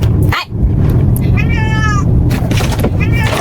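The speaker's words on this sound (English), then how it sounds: "My cat again." A house cat meows twice, the first cry longer and clearer, the second shorter, both close by over loud background noise and a few bumps.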